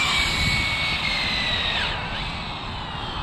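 An Exceed 1/8 scale RC drift car running on a 4S battery screams at full throttle, a loud steady high-pitched electric motor whine that rises and falls slightly, with no voices.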